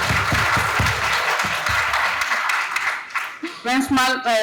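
An audience at a university conference applauds in a dense, steady wash of clapping, which fades out as a voice begins speaking near the end.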